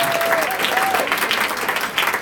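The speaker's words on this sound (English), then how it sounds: "let's put our hands together and make a little noise for this fundraiser tonight" Steady, close applause from a fundraiser audience, dense clapping throughout with a few voices mixed in.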